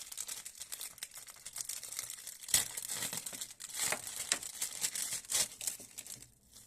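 Plastic packaging of a watch being unwrapped, crinkling and crackling close up in uneven bursts, with a few sharper tearing snaps and no talking.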